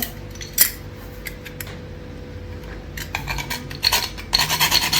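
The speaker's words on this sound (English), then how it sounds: "And I'm gonna grate on my nutmeg." Whole nutmeg rasped against a grater while cooking a Sunday dinner, giving scattered light scrapes that build into a burst of louder, close rasping strokes near the end, with faint kitchen clatter underneath.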